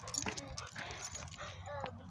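A dog on a walk gives short, high whimpering whines amid outdoor rustling and handling noise, with a person's voice faintly in the background.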